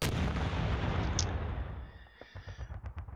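Gunfire from machine gunners in the wargame Panzer Battles North Africa 1941, a dense, loud roar of rapid shots and booming blasts that thins into several separate sharp bursts toward the end.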